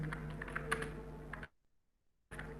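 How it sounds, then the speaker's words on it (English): Rapid keystrokes on a computer keyboard clatter close by for about a second and a half, then break off into near silence before the clicking resumes briefly at the end. "when I look at the questions, I type this"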